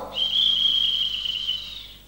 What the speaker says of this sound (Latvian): tā mana sporta svilpe